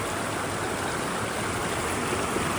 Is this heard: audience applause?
no